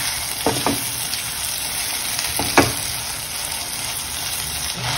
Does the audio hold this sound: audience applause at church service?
no